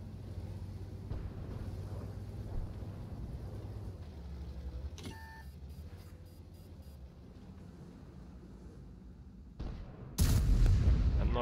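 A Grille 15 tank destroyer in World of Tanks fires its gun and scores a hit, a sharp shot with ringing tones midway over a low engine hum, then a loud heavy boom at the end.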